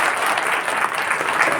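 People at a Goswami community gathering in Motihari clap for one another, a brief, dense, steady round of applause with no voices over it.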